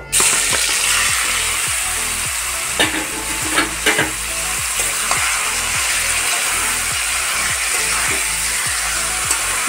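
Marinated fish frying in hot oil with cumin, cinnamon, cardamom and bay leaf gives a steady, close sizzle, with repeated stirring strokes scraping the pan in an even rhythm throughout.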